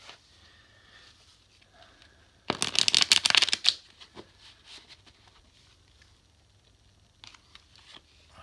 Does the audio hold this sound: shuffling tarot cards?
yes